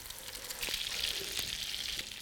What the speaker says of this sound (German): Und wenn dann die Pfanne soweit fertig vorgeheizt ist, wird es gebraten.